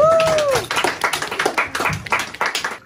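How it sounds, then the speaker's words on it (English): An audience at a small poetry night in Montreal claps, quick uneven hand claps in a fairly close room after a brief whistle-like tone, with voices mixed in. "Ouais, applaudissez-vous."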